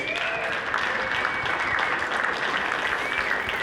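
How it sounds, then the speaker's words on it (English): Steady applause from a live podcast audience, continuous clapping filling the space without a break. "just go ahead and give yourselves a round of applause"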